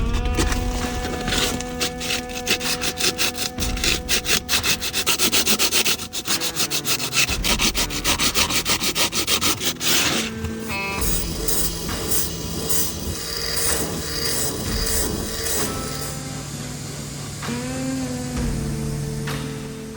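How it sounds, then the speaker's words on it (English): Old sealant being scraped and rubbed off a boat surface ahead of resealing, a steady close rasping scrub that runs nearly continuously, with rhythmic strokes and some tonal ringing. "There's old sealant on it, so I'm gonna go ahead and clean it up and get it prepared to go ahead and reseal."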